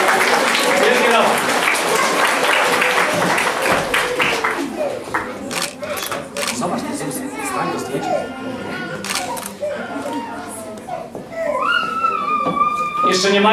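Audience applause for a child award winner in a poetry category at a literary contest ceremony in Olsztyn, steady clapping mixed with crowd noise, children's voices and camera clicks throughout.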